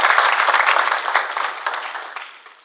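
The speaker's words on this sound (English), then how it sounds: "You could give him a round of applause." Audience applause for a government minister at an economic conference in Zimbabwe, a dense, steady roar of many hands clapping that gradually thins and fades toward the end.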